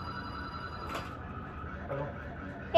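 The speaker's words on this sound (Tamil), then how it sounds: "ஃபோன் வந்துருச்சு." A telephone rings in a garden-view room at VGP Golden Beach Resort on the ECR, a steady electronic tone that carries faintly over low room murmur and ends in a short, louder burst.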